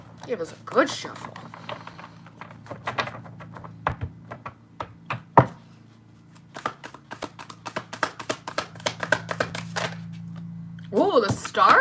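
A deck of tarot cards is shuffled on a desk in bursts of crisp riffling clicks and taps, close up, ending with a brief stretch of talking.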